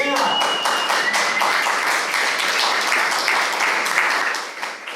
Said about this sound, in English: I wasn't expecting like applause and stuff, but bring it on